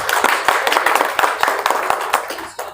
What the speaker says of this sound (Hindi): भाइयों के लिए एक बार जोरदार ताली होनी चाहिए।